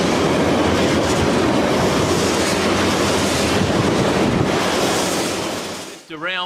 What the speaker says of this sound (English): This colossal freight train stretches as far as the eye can see, transporting oil directly from the fields.